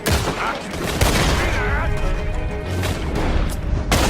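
Lancaster repeating rifle fire in Red Dead Redemption 2 during a gunfight: sharp, loud cracks land about a second or more apart, with more shooting and battle noise in between and speech over the top.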